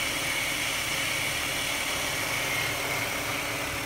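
A 2003 Cadillac CTS 3.2-liter V6 engine idling after being warmed up, with a check engine light on, giving a steady, even hum and whir heard up close without any talk.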